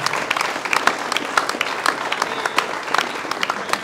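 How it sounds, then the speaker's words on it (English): An audience applauding at a political event where a US Senate candidate concedes the race: a burst of dense clapping from many hands, close and lively, lasting several seconds. "So give him another round of applause."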